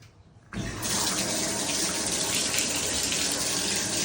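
Water from a newly installed Symmons shower valve rushes into a bathtub. The flow begins abruptly after a brief quiet moment, then continues as a loud, steady spray.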